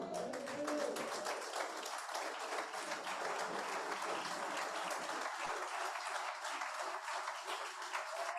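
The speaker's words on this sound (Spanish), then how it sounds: "un aplauso al rey" A church congregation breaks into sustained, dense applause during a Spanish-language worship service, loud and continuous from start to finish with no break.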